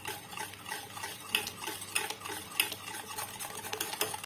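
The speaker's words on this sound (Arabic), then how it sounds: "غنضربوه مزيان باش يدخل لينا الزيت مزيان مع البيض" Eggs and oil beaten together for ghriba cookies, with brisk, rapid whisking and tapping of a utensil against the bowl, close and steady throughout the short stretch, without speech.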